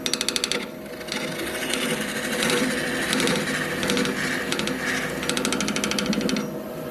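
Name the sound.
bowl gouge hollowing end grain of wood on a lathe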